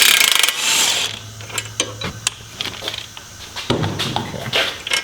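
A wrench ratchets on strut bolts on a Ford Fiesta ST, with quick clicking bursts and metallic clanks close by, spaced by short pauses.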